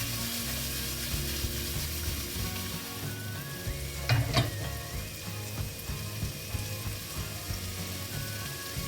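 Vegetables and mushrooms sizzling steadily in a hot pan for a Thai red curry, a dense, constant frying hiss with a brief clatter midway as they are tossed, close and alone.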